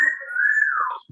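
A pet parrot whistles one long, clear sustained note that holds steady and then slides downward at the end, loud and close, with no other sound around it.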